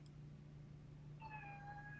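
A pet cat gives a faint, brief meow near the end, a couple of rising-and-falling cries over a steady low background hum.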